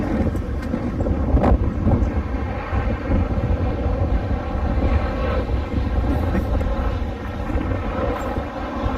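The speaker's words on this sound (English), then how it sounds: "Airplane!" A loud, steady engine roar drones on throughout, like an aircraft passing low overhead, with faint rumbling and wind mixed in.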